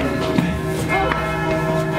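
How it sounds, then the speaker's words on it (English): Church bells pealing at Sacré-Cœur in Montmartre, Paris, ringing tones overlapping in a steady wash with repeated strikes, heard from nearby outdoors. "You can hear the bells are pealing."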